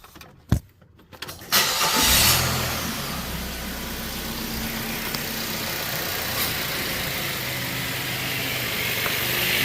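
Mazda car engine starting with its AC compressor engaged: a sharp click and brief cranking, then the engine catches and settles into a loud, steady idle with a faint whine, heard up close.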